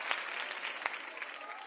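Studio audience applause rises as a steady, moderately loud wash of many hands clapping, with a few sharper individual claps standing out and no talking over it.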